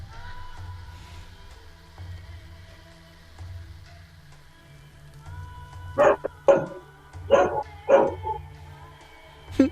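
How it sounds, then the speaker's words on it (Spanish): A dog barks several times in a quick cluster, moderately close, following a stretch of quiet room tone with a low hum in the background of a home podcast recording. "Está ladrando el perro mucho ya."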